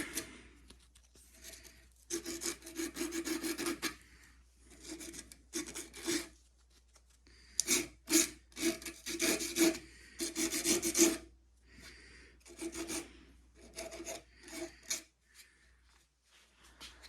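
Rasping strokes of sandpaper on the wooden tip of a longbow, coming in bursts of steady back-and-forth rubbing with short pauses between, close and fairly loud.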